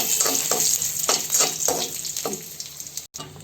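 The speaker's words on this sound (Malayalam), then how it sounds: "ചൂടായ നെയ്യിലോട്ട് നമുക്ക് ഡ്രൈ ഫ്രൂട്ട്സ് ഇടാം." Raisins sizzle and crackle in hot ghee in a pan while a spoon stirs them, giving a steady frying hiss with soft scraping strokes close by.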